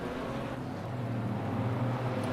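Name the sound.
Ginetta GT4 race car engine in racing video game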